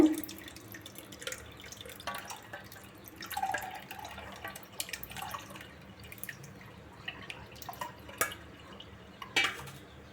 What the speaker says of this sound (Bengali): ব্লেন্ড করা হয়ে গেছে তরমুজের জুসটা আমি ছেঁকে নেব